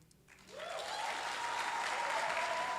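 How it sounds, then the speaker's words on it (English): Poetry slam audience breaking into sustained applause after a performer, starting quiet and rising quickly to a steady, dense clapping that fills the room without a break. "Can I have a lofty round of applause for Alicia Psyche Haynes?"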